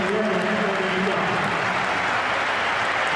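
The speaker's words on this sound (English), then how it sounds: "Applause from he who must be obeyed, reciprocated by the player being replaced, Damien Duff." A football stadium crowd at a Chelsea versus Tottenham match applauds for a player being substituted, producing a broad, even wash of clapping and crowd noise from many spectators, with a faint voice briefly audible early on.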